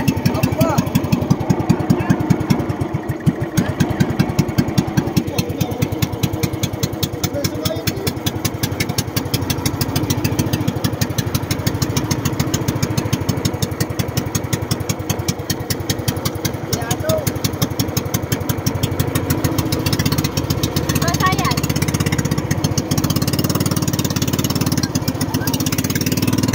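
A small engine with a carburetor that needs cleaning idles steadily and loudly nearby, with a fast, even chugging pulse that lasts the whole time. Faint voices can be heard under it.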